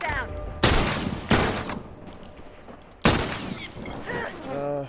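Rifle fire in The Last of Us multiplayer: three sharp, loud shots at uneven intervals, each with a ringing tail, amid quieter background noise and a brief vocal sound near the end.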